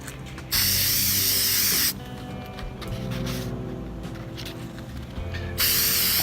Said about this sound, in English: To start the process of adhering your sanding paper to the stone is spray adhesive on the back side of it.